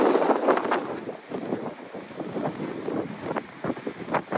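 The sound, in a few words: strong wind on the coast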